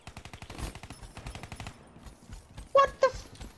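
Rapid bursts of AK-47 gunfire from the video game Call of Duty Black Ops 3, a string of sharp, evenly spaced shots followed by two louder, heavier blasts near the end.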